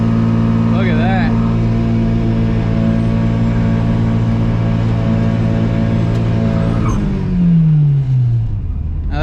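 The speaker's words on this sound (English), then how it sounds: "Now that's a burnout." VW Mk3 with a 1.8T engine swap doing a burnout, a loud, close, steady high-revving engine drone that drops away sharply near the end, with a voice talking over it.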